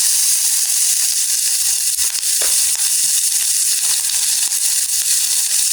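Pork belly slices sizzle loudly and continuously on a thin, very hot pan, a dense crackling hiss with occasional soft scraping.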